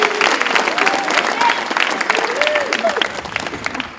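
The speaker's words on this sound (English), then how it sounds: "Let's clap it up for Nate Ellis." Applause from campers and staff at a youth basketball camp, honoring a coach who is being introduced. Steady, moderately loud clapping fills the whole stretch, with faint voices mixed underneath.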